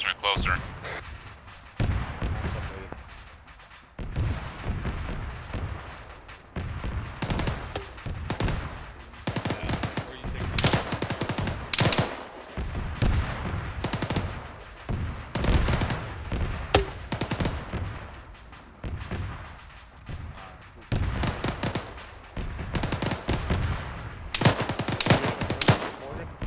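Sustained automatic gunfire from a military firefight in ArmA 3, with dense, overlapping bursts and rapid shots filling the scene, some close and loud and others more distant, continuing throughout with occasional heavier blasts.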